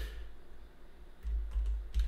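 Typing on a computer keyboard, a short run of soft, close key clicks and taps that starts after a quiet moment, each keystroke brief and dull.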